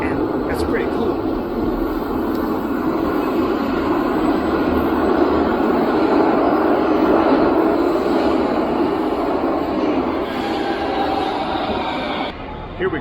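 Sofia metro train running, a steady loud rumble and rolling hum filling the whole stretch, with no breaks and a slight drop near the end.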